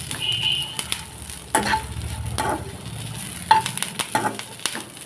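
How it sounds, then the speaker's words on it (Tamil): Tomatoes sauté in a pan with a soft, steady sizzle, broken by a few sharp clinks and scrapes of a spoon stirring against the pan. "தக்காளி நல்லா வதங்கட்டும்."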